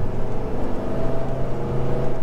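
A Dodge truck pulls in second gear, its engine droning loud and steady with a throbbing pulse close by, alone without voices.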